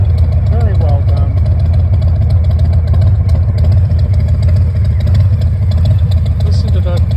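A 2022 Harley-Davidson Heritage Classic 114 with Reinhardt exhaust idles nearby, a deep, loping rumble that holds steady and loud throughout.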